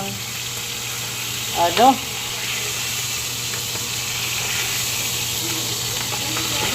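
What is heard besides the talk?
beef steak sizzling in a pan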